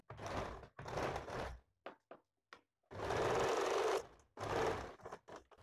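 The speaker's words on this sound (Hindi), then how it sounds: "आर्मोल पे पहला सिलाई देने के बाद थोड़ा सा दबा के और एक सिलाई देना है।" A sewing machine stitches a blouse armhole in several short close bursts, separated by pauses and small handling clicks.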